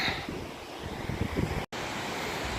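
Wind gusting across a scree field on a mountain hike in Jones Park, with flowing water below, forms a continuous broadband rush with no voices, steady and moderately loud throughout.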